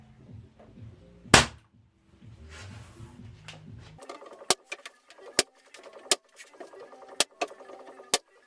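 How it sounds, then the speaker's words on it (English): A nail gun fires about eight sharp, loud cracks at irregular intervals, close up, while nailing together an upcycled storage piece, with a few quieter handling noises earlier. "Always check you've got enough nails in your nail gun"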